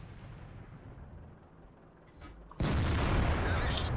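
Artillery fire in the tank combat game World of Tanks: after a quieter stretch, one sudden loud boom erupts partway through and holds as a sustained roar to the end.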